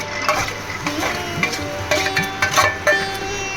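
Small coconut pieces fry in ghee on a tawa as a spatula repeatedly scrapes and clinks against the metal over a faint sizzle, close by and without speech.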